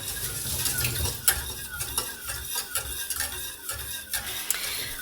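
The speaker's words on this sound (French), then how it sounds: "On mélange bien, on garde bien sur feu doux." A butter mixture for a lemon tart stirred in a pan over low heat, with rhythmic scraping strokes of a utensil repeating about twice a second over a soft sizzle, close and alone.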